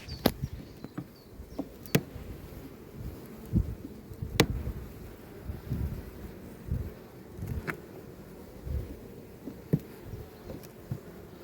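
Honey bees buzzing around a hive at a queen-rearing apiary in spring, a soft steady hum broken by close individual bees zipping past the microphone.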